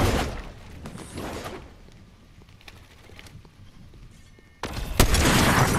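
A sniper rifle fires in a video game: a sharp, loud crack near the start, then a quieter stretch with scattered faint clicks, and a second burst of heavy noise toward the end.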